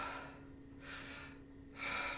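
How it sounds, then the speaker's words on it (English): Two audible breaths are drawn in through the chest without diaphragm support. Each is a quick, airy intake with a pause between, close and soft. "You're just going to be breathing in and raising and lowering your chest."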